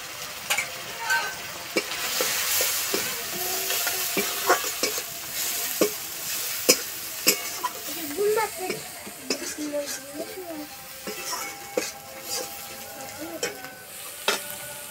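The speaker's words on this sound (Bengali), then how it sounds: "মশলা কষানো হয়ে গেছে" Spice paste of garlic and ginger paste with ground cumin, chilli and turmeric sautés in a pan, sizzling steadily while a spatula scrapes and knocks in irregular strokes, with occasional voices over it.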